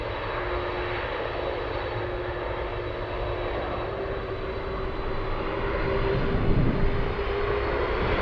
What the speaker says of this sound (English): Yeah, I think it's takeoff.